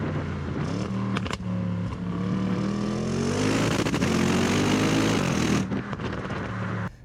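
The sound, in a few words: Audi RS6 C7 engine under full throttle acceleration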